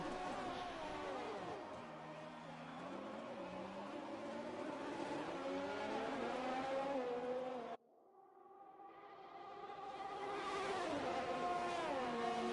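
A Formula 1 race car engine from the F1 2020 video game screams at high revs, its pitch sweeping up and down through gear changes, then cuts off briefly before climbing again in a loud, sustained whine.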